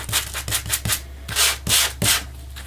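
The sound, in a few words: sanding block sanding cardstock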